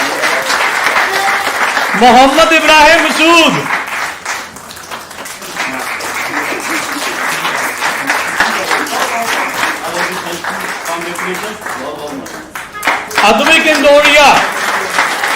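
Audience at an art exhibition bursts into rounds of clapping, swelling and fading between names read aloud by a speaker, with a couple of louder applause bursts.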